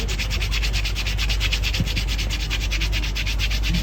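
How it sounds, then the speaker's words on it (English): A hand-sculpted pen being sanded, giving a steady, continuous rubbing and scratching hiss that stays even and fairly loud throughout, with no voices. "you can do the sanding with that"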